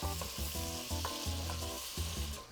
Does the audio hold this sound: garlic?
yes